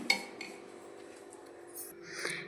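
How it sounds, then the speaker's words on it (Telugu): A metal cooking pot lifted off a stove, with a sharp clink at the start, a quieter knock and a brief metallic rattle near the end over a faint steady hum. "ఇప్పుడు గిన్నెని దించేసుకుందాం."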